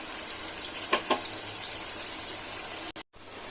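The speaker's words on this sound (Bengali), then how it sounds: "আমি ভালো করে ভেজে নিই পনিরটা" Paneer frying in a pan, a steady broad hiss and crackle of hot oil held at an even level throughout, with a couple of brief clatters near the start and a short break near the end.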